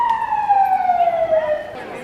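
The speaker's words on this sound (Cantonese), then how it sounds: "頭先有警車經過" A police car siren passes on a city street in Spain, a single loud wail sliding steadily downward in pitch over faint street background.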